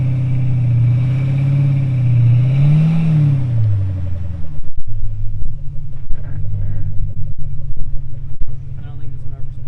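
A Jeep WJ engine drones steadily as it crawls up a slimy off-road hill. The rumble is loud and close, the revs rise and fall early, then give way to a choppier, bumpier low growl.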